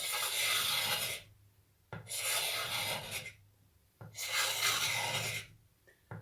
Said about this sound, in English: scrape it all off